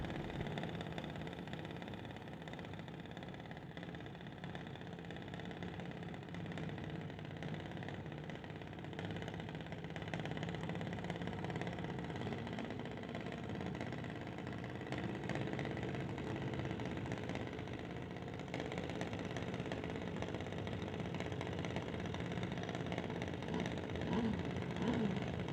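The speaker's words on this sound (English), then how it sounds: "Junior dragster from Mission racing Wesley Armstrong from Chilliwack" A junior dragster engine idles at a drag strip during the NHRA Summit ET Mission Finals, a steady mid-pitched drone held throughout with a commentator's voice over it.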